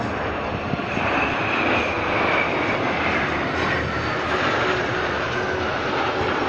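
Patrouille de France jets flying a simultaneous loop at an air show, a loud, continuous broadband roar of jet engines sustained overhead without voices.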